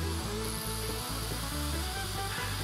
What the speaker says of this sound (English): here I'm just cutting off the piece of steel for the socket that the handle will fit into